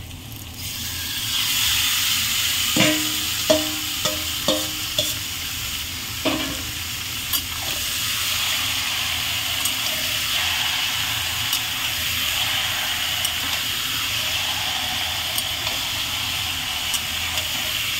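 Marinated chicken goes into a hot pan of fried onions for a chicken kosha curry, bursting into loud, steady sizzling with a few sharp clinks and scrapes of a spoon early on, then continuous frying hiss.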